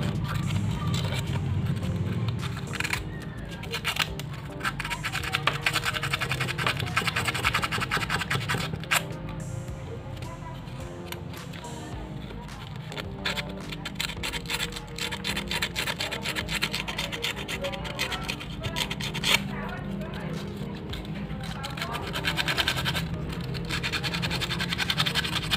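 Sandpaper rubbed back and forth across the contacts of a clothes iron's automatic thermostat, a steady close scratchy rasping that runs continuously throughout.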